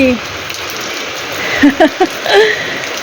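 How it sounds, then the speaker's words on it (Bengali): Steady patter of the season's first rain after strong wind, with a few brief chirpy bird-like calls rising over it near the middle. "প্রথম বৃষ্টি"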